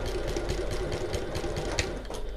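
A domestic sewing machine stitches fabric for a bag, a quick run of rapid needle strikes at close range, moderately quiet, with no voices.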